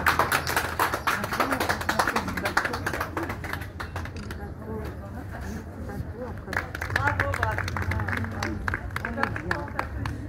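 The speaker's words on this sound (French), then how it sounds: "N'hésitez pas à remercier Mathieu, il y a l'applaudissement s'il vous plaît." Passengers on a small sightseeing boat clap for their guide, a steady patter of scattered hand claps continuing under talking voices.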